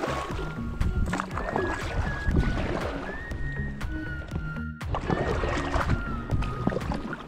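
A small boat is paddled across an icy glacier lake among icebergs, with repeated splashing paddle strokes and water sloshing close by in an irregular rhythm, with a faint whistling tone over it and no speech.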